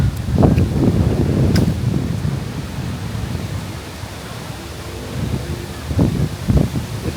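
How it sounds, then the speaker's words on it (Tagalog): Strong wind gusts steadily across an open park where people camp in tents, a loud continuous roar buffeting the microphone, swelling and easing with occasional sharper gusts. "Lakas pa ng hangin."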